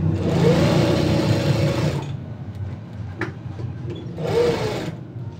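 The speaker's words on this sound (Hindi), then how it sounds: "ये हमारे अंदर की सिलाई लग चुकी है" A sewing machine stitching the inside seam of a pocket runs in two close, loud bursts, a longer whirring run, a pause with faint handling, then a short second run.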